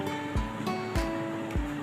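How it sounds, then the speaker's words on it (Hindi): Two cups of boiled water are poured into a bowl to make jelly, a close, watery whoosh that swells in three surges over a constant low kitchen hum, with no talking. "सबसे पहले मैंने 2 कप पानी को अच्छी तरह से पका लिया है। उसको मैं बोल के अंदर डाल दूँ जेली तैयार करने के लिए।"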